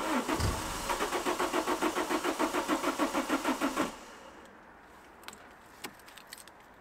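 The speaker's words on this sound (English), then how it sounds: "Just like that, the little Lupo has started." A Volkswagen Lupo with a dodgy key cranks with a rapid, even starter whir for several seconds, then falls quiet apart from a few faint clicks and knocks.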